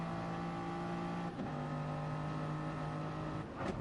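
Race car engines in GT Sport braking hard into a corner, a steady loud engine drone that drops in pitch as the cars slow, then rises again, with a brief squeal near the end.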